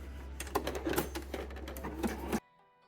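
A sewing machine running a wide zigzag stitch to attach elastic at a swimsuit waistline, a rapid rhythmic mechanical clatter with a low motor hum that stops abruptly near the end.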